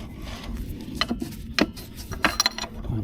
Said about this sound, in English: You hear it tightening up.